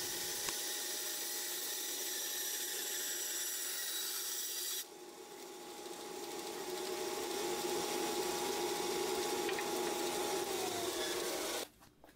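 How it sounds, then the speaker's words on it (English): Bandsaw cutting a wooden board to rough out a fishing lure shape, a steady broadband hum and rasp running continuously, with a shift in tone partway through as the cut changes, then stopping abruptly near the end. "brought over to the bandsaw to make the cuts."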